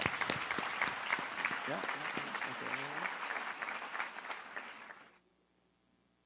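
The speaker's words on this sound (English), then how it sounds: "Give a round of applause." A live audience applauds at a talk session: full, close clapping rolls on steadily, one voice briefly speaks over it, and then the applause cuts off into near silence.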